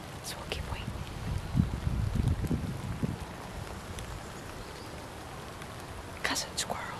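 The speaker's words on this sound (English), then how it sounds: "Been raining on and off." Light rain patters steadily in the woods during a deer hunt, a soft continuous hiss with low rustling and a few brief sharper sounds, faint and diffuse.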